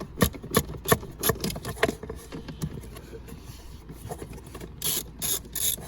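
A small socket ratchet turns a bolt while replacing the interior blower motor fan on a Chrysler Intrepid, giving rapid close clicking bursts in the first two seconds, then a quieter pause and a few more sharp clicks near the end.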